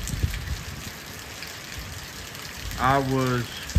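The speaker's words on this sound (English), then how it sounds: "It's still raining though." Steady rainfall patters continuously on a farm, with a few heavier drips nearby; a voice speaks briefly near the end.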